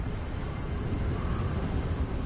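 Steady, low wind rushes across a Scottish landscape in Hogwarts Legacy, a continuous gusty roar that holds at an even level throughout with no other distinct sounds.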